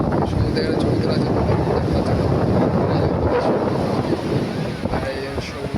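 Sea and wind at Digha beach, a loud continuous roar of wind buffeting the microphone over the rush of surf, steady throughout with no clear talk.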